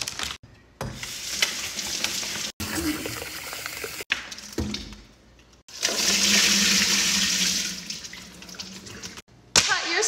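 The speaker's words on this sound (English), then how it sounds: "Let's wash the strawberries first." Strawberries washed under a running kitchen tap, a steady rush of water broken by brief pauses and shifting splashes as the fruit is moved under the stream.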